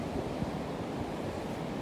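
Atlantic Ocean waves washing onto a beach, a steady, fairly faint surf hiss with soft rolling swells and no voices.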